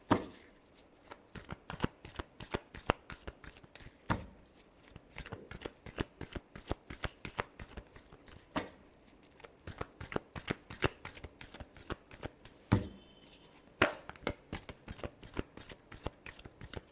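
Tarot cards being shuffled by hand in a steady run of crisp, rapid riffling flicks and soft slaps, close and fairly quiet, continuing without pause and with no voice over it.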